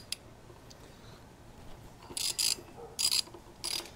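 Ratchet driving a long-extension T40 Torx bit to break free rear brake caliper bolts on a Harley Twin Cam Softail, giving three short bursts of quick metallic clicks over quiet background.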